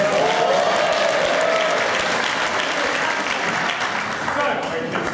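Steady, dense applause from a crowd at a Raspberry Pi fourth birthday party, loud and sustained throughout, with a brief voice heard near the start.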